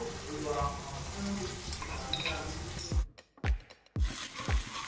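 Ginger paste sizzles and spits in a hot pan with stirring in a home kitchen, a steady close hiss broken by a few sharp thumps and clatters, with faint voices in the background.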